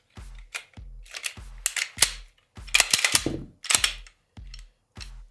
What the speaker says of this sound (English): At this point, we can reinstall our slide onto the gun.